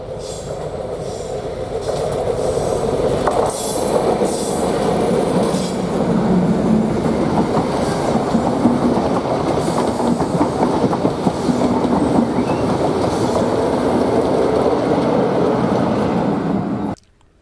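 Class 56 diesel locomotive 56051, with a 16-cylinder Ruston engine, passes at a rural spot, its heavy diesel drone blending with steady clickety-clack of wheels and faint squeals, fairly loud and continuous before cutting off.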